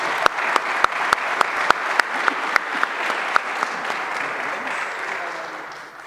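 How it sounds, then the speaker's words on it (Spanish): Audience applause for the panelists at the close of a round-table discussion on a national ballistic fingerprint database. Scattered sharp claps quickly build into steady, dense clapping from a full room, fading slightly toward the end. "Les brindamos un fuerte aplauso aquí a los panelistas."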